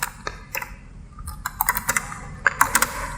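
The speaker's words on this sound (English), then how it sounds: "So if I start typing" Bursts of typing on a computer keyboard, irregular clusters of sharp key clicks close by, with brief pauses between groups of strokes and no talking.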